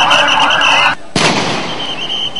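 Security forces fire blank shots at night to disperse a crowd at a rally in Shapla Chattar, Dhaka. Loud, dense noise breaks off briefly and is followed by a single sharp, close crack that rings out into an echoing tail.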